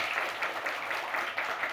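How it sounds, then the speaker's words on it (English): An audience at a club lunch claps steadily, a lively wash of many hands close by with no talk over it. "let's give a big hands of applause"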